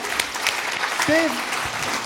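A small group applauds briefly, with scattered claps under a voice that speaks across the middle of the moment.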